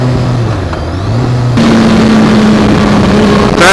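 A Kawasaki ZX6R 636 sport bike screams at high RPM, loud and close. Its whine jumps sharply in intensity partway through and holds a sustained, piercing pitch.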